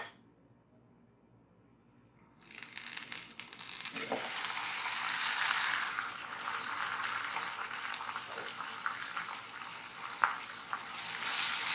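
Onions, ginger, garlic and green chilies sauté in a pan for a curry leaf pepper chicken roast, a steady close sizzle starting after a quiet opening, with a few soft stirring clicks and scrapes.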